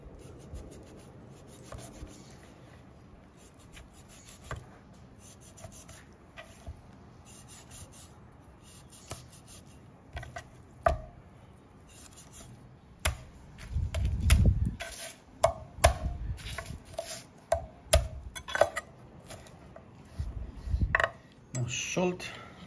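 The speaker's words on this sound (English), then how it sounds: "First we're gonna cut a little bit of the skin." Knife scraping and cutting through the skin of a pork knuckle on a board, quiet intermittent rasping strokes that grow louder and denser toward the end.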